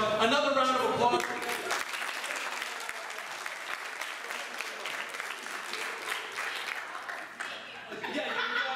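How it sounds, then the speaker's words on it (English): Crowd applause after a stage hypnosis show at a college in Chambersburg, Pennsylvania: dense, steady clapping with some chuckling mixed in, framed by a person talking at the start and end. "Another round of applause."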